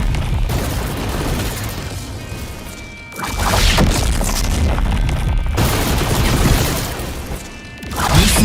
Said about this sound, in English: watch as I use the third Z ability, the Z3 dragon, in the same way